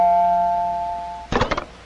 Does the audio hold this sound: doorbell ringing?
yes